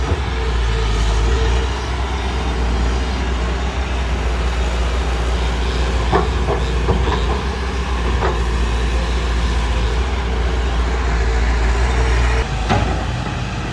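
A Komatsu PC200 excavator's heavy diesel engine drones steadily throughout, with a deep low rumble and a few faint mechanical clanks near the end.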